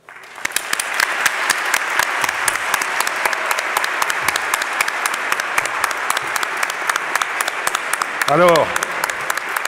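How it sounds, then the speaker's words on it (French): Sustained audience applause fills a Sorbonne amphitheatre, dense and even with a few sharp nearer claps, while a voice briefly speaks near the end. "nous allons applaudir vos professeurs"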